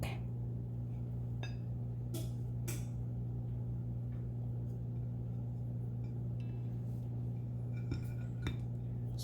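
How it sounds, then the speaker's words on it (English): Light metallic taps and scrapes of a fork pressing along and sealing empanada dough, scattered and faint over a steady low electrical hum. "And then you seal it with fork."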